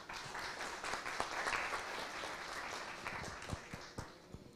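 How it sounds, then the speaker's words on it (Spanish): Applause from an audience at a talk on facing an Alzheimer's diagnosis, honoring Dr. Daisy Acosta: dense, steady clapping for several seconds with a few louder individual claps standing out near the end. "Y nueva vez un aplauso a la doctora Daisy Acosta y a los demás."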